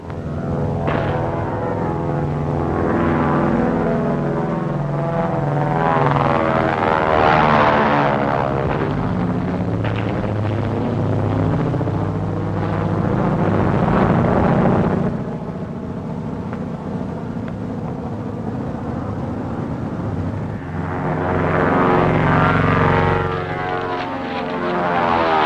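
An airplane circling overhead in a 1942 serial: a steady, heavy propeller-engine drone that swells and fades as it passes, loud and continuous throughout with no talking.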